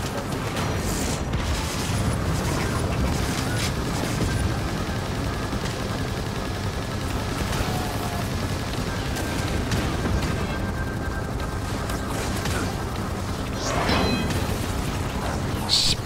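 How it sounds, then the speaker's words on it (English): Dense, rumbling explosions and gunfire in the shooter game Firefall, a constant chaotic barrage of booms and bursts throughout. "Explosions everywhere."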